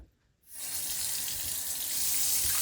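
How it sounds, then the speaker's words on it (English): Water gushes from a tap into a sink, filling it with warm water; after a brief quiet moment the steady rushing splash starts abruptly and continues loud and close. "Now let's fill up our sink with warm water."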